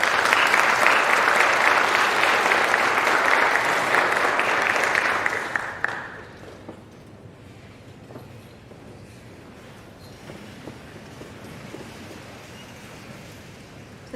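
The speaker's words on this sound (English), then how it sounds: "Please give them a round of applause, ladies and gentlemen." Audience applause at a Phi Theta Kappa honor society induction ceremony, with loud, sustained clapping from a large crowd that fades out after about six seconds, leaving quiet room tone with a few stray claps and shuffles.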